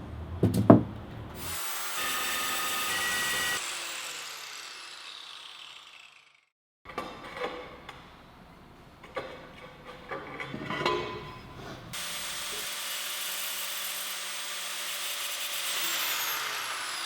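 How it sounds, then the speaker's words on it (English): An angle grinder with a diamond disc cuts ceramic tiles in a small apartment, producing several sustained high whining, grinding passes, each a few seconds long, separated by short pauses and near the microphone. "cut the tiles using an angle grinder with a diamond disc"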